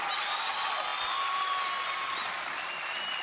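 Crowd applause at a martial arts tournament performance, a sustained wash of clapping from a large audience in an indoor arena, steady and dense with no voices standing out.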